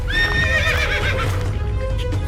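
A horse in a Hindi cartoon story gives a loud, quavering whinny that fades out, with hoof clip-clops and a low rumble continuing underneath.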